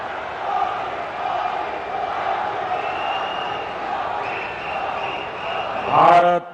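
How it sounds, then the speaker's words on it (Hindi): Large crowd cheering and clapping in welcome for the Prime Minister at the Dwarka Expressway inauguration, a dense continuous roar that swells louder near the end. "जोरदार तालियों से स्वागत माननीय प्रधानमंत्री जी का।"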